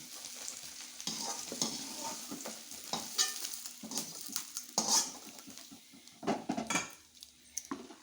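Paneer cubes fry in hot oil in a pan, a steady sizzle running throughout with scraping stirs and a few clinks of a spatula against the metal, close and fairly loud, with no talking.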